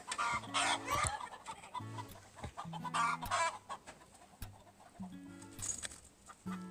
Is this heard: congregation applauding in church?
no